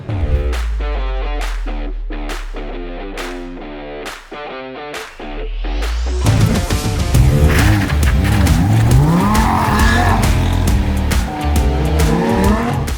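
A race car drives fast around a racing circuit, its engine roaring loudly and steadily with rising and falling pitch, tire squeal and a harsh, distorted edge throughout.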